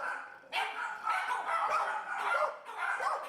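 Pit bulls and pit bull mixes bark at an animal shelter, several dogs yapping and barking in quick overlapping bursts, moderately loud with a slightly distant, echoing quality.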